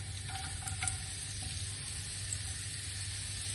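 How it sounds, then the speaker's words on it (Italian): Half a sliced onion sizzles in a pan of oil, a steady close frying hiss with a few faint stirring clicks near the start and no voices. "aggiungo una mezza cipolla a fettine"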